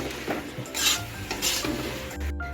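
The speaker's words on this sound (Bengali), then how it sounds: "এখন আমি মোচাটা রান্না করে নিচ্ছি কিছুক্ষণ" Banana flower (mocha) being stirred and cooked in a pan with mashed spices, giving scraping spoon strokes over a soft, steady sizzle in a close, busy rhythm without speech.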